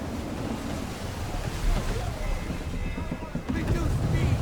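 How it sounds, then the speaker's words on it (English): Gusty wind rushing past a sailing ship at sea in Assassin's Creed III, a constant loud roar of wind and surf that swells and buffets, with voices speaking over it. "Wind looks to be shifting. Stay alert, Connor. Gusty winds can be difficult to manage."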